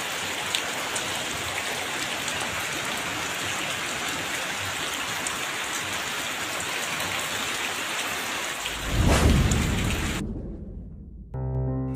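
Steady rain pours at night in front of a house, a dense, even hiss of drops on surfaces. A louder whoosh rises near the end before the sound cuts off.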